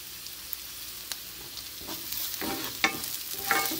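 Garlic toasts in a hot pan with a steady, close sizzle, while a few spatula scrapes and taps grow busier toward the end. No one speaks.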